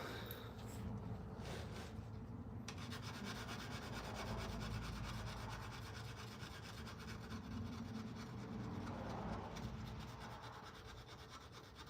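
Mold polishing stones rubbing along a knife bevel during handmade knife work, a steady scratchy abrasive scraping that runs continuously and close to the microphone, with no talking.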